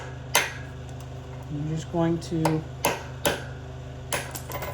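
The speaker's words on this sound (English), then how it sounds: "you're going to take a drift and a hammer" A hammer strikes a steel drift to knock out the keyway on a BSA/Triumph unit single motorcycle gearbox, giving several sharp metallic knocks and a few ringing taps in a quiet workshop, with someone speaking briefly between blows.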